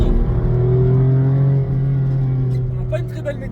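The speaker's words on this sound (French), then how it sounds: "on a quand même un super V8 juste devant nous. F430, boîte méca de chez Deal for Speed" A Ferrari F430 with its V8 and manual gearbox is driven just ahead on a road, giving a steady, fairly loud droning engine note that eases off midway, with a voice speaking over it.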